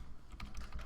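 Fingers tap a computer keyboard in a quick burst of a few soft keystrokes, close and faint, with no voice over them.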